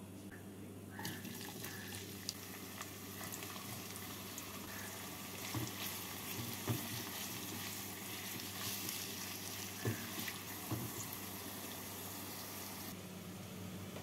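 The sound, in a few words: chopped onions frying in hot oil for beresta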